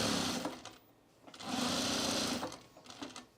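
A sewing machine stitches through all the layers of a baby bag in two close bursts of fast whirring, with a brief pause between them.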